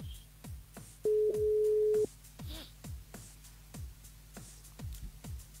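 A telephone line rings out on a live radio call: one steady electronic ring tone, about a second long, sounds over a rhythmic thumping music bed.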